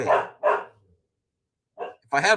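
A pet dog barks close by indoors, two sharp barks followed by a pause, then two more, loud and alone.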